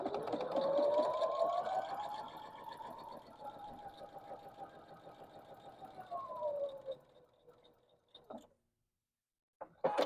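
A sewing machine stitching half square triangle quilt pieces runs in a steady whirring hum that rises in pitch at the start, holds, then slows and stops, followed by a few faint clicks.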